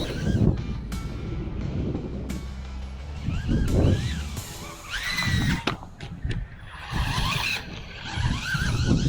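Hosim M12 brushless RC buggy revving at full throttle, whining motor surging and fading as it passes nearby with tire scrabble and wind buffeting, outdoors.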